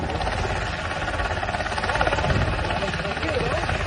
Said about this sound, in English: So you can see the Black Hawk helicopter taking off right next to the pier